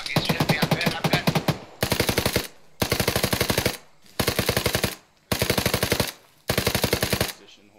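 An enemy fires at close range in the military shooter game ArmA 3: about six loud bursts of rapid automatic gunfire, each lasting around a second and separated by short silent gaps.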